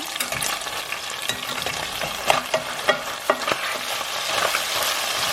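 Chicken frying in a pan with heavy whipping cream, a loud steady sizzle with close scraping stirs and a few sharp knocks of the utensil against the pan.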